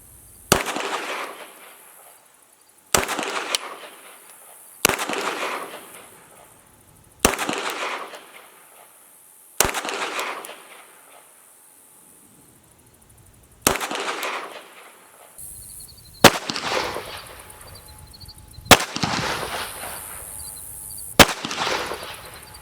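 A .22 rifle fires nine sharp, loud shots at outdoor range zip line targets, spaced a few seconds apart, each crack trailing off in a short echoing decay, with no voices.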